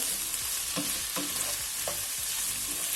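About 100 grams of diced ham fries in a pan for a broad bean scramble. It gives a steady, loud, close sizzle, with a few soft scraping stirs over it and no voices.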